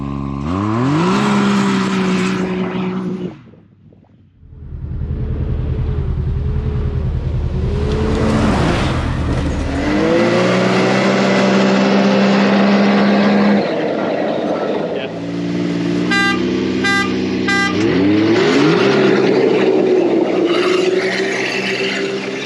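A Can-Am X3's stock exhaust, valve closed, revs again and again, pitch surging up and dropping back, with a brief lull early on; close and powerful throughout.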